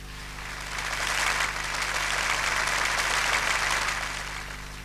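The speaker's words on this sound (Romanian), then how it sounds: "să mă ajutați și să aplaudăm familia profesorului Iancu Laurențiu" Sustained audience applause at a memorial evening for a professor, honoring his family, building to a steady even clatter of many hands that holds for several seconds before easing slightly, with a low constant hum underneath.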